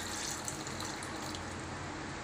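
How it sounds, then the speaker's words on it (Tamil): Water is poured into a simmering Tamil egg curry with coconut paste, a short, faint, steady gush of liquid. "தண்ணி ஊற்றிக்கிறேன்."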